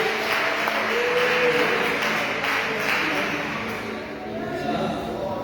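Dense, steady clapping from a church congregation fills the whole stretch, a continuous wash of many hands with voices mixed into it.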